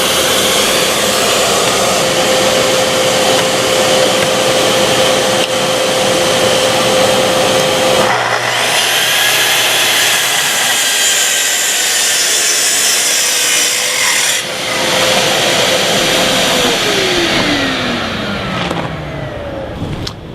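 A Festool saw cuts through wood while its dust-extraction vacuum runs alongside, a loud continuous motor whine with a steady hum that shifts partway through and winds down at the end.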